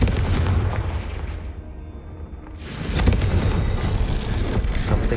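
Booming spell explosions from the Bombarda and Confringo spells in the Hogwarts Legacy video game. Two heavy, rumbling blasts sound a few seconds apart and fill the clip.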